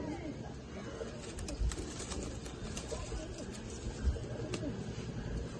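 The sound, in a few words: pigeons cooing in a cage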